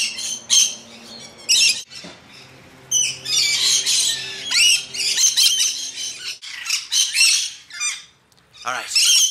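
Lorikeets squawk and screech loudly and close by while going after sweet nectar, harsh bursts of calls coming in rapid overlapping clusters with short gaps between them.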